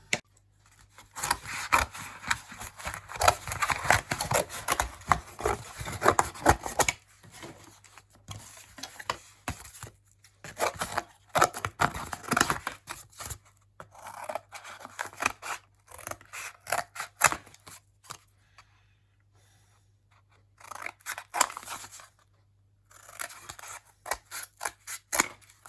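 Scissors snip through a template plate being cut for a Mk1 Escort bulkhead, in bursts of close, crisp cuts separated by short pauses, with a near-silent gap in the middle and a final run of snips.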